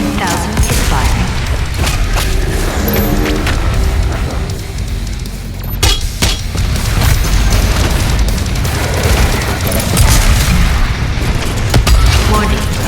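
The BFG 10,000 fires in Doom Eternal as a loud, dense, continuous rumble of booms and mechanical whirring, with sharp bursts layered over heavy low-end roar throughout.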